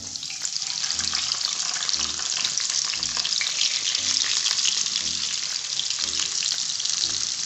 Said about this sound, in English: Now we are going to put in the garlic, then onion